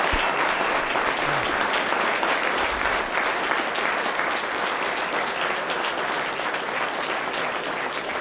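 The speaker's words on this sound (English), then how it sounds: "everyone should give them a nice warm round of applause for an incredible job they've done" A warm, steady round of applause from an audience at a film festival Q&A screening in Boston, a dense continuous wash of many hands clapping, sustained at even loudness throughout with no talking.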